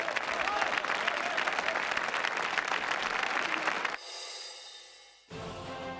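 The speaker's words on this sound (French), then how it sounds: "Eh bien alors on va vous applaudir." Audience applause for a prize winner at a French game show tournament, dense and even for about four seconds, then cut to quieter, different-sounding segments with some voice.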